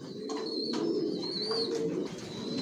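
Racer pigeons in a loft, including pairs sitting on eggs, coo softly and continuously at close range. Overlapping murmuring calls rise and fall over a low hum, with no talking.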